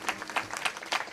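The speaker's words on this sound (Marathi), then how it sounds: "एकदा सर्वांसाठी जोरात टाळी वाजवायची" Audience at a Marathi kirtan clapping loudly together, sharp claps in a quick uneven rhythm sounding close and bright for about a second.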